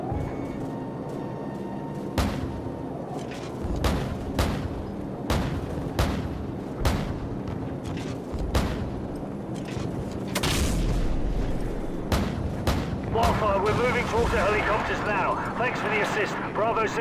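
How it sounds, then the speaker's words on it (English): Gunfire from friendly troops in Call of Duty 4: Modern Warfare, repeated sharp shots and booming bursts at irregular intervals over a rumbling battlefield backdrop, with voices talking throughout. "Check your fire, you're shooting at friendlies."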